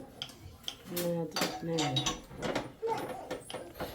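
A heavy black tawa griddle pan weighing about two and a half kilograms, part of a new kitchen set, is handled with a few close metallic clinks and knocks, while a person talks throughout.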